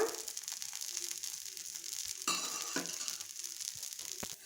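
Dosa cooking in oil on a hot pan, a steady close sizzle and crackle that swells briefly partway through, with faint scraping touches and no talking.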